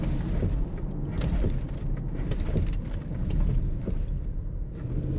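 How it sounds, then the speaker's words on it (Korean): Range Rover P530 LWB braking hard on a road at night, a dense low rumble of tyres and cabin noise with jangling rattles and a few sharp clicks throughout. "제동을 여기서 조금 세게 해볼게요."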